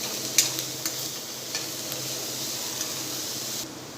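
Ginger-chili-garlic paste sizzles and fries in a pan over a high gas flame, a steady close hiss with a few light clicks of stirring.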